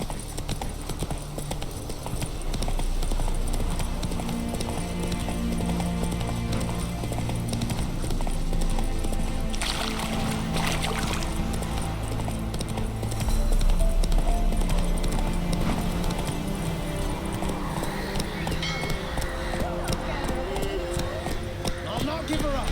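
Roach the horse gallops in The Witcher 3, a rapid steady clip-clop of hooves running loud and close throughout, layered with game music and a voice speaking.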